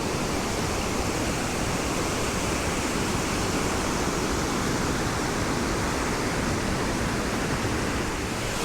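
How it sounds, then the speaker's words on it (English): The Avon River on Dartmoor rushes down from Avon Dam after heavy rain, a loud, steady broadband roar of flowing water close by with no pauses. "You've got the beautiful Avon River flowing down from the dam."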